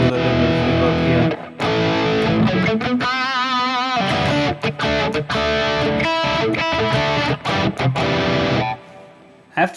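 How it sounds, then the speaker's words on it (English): Distorted electric guitar with a touch of reverb runs through a Harley Benton DNAfx GiT Pro multi-effects unit. Loud chugging riffs and chords carry a wavering sustained bend, brief choppy gaps and a ringing fade at the end. "I like to play it with a little bit of reverb here."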